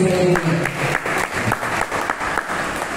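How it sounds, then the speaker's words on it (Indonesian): A school audience applauds during a religious talk, with steady, moderately loud clapping for about three seconds and no speech over it. "Berikan tepuk bagi Tuhan Yesus."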